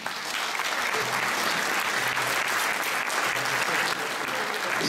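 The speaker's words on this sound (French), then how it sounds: "Vous pouvez l'applaudir." An audience at a military band concert in Montrichard applauds a commandant, the steady, dense clapping continuing for about five seconds without a break.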